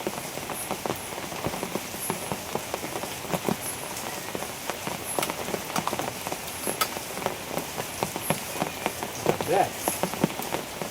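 Rain falls steadily on a rural province home, a constant patter of drops hitting surfaces close by, with people talking faintly beneath it.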